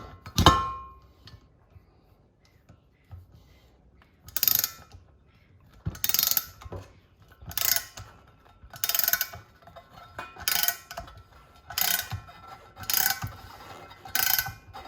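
A hand-operated Aerobolt rivnut (nutsert) tool ratchets as it sets a rivnut for running board spacers on a 1934 Chevy truck, giving a series of evenly spaced, sharp clicking bursts, close and loud, with no talking.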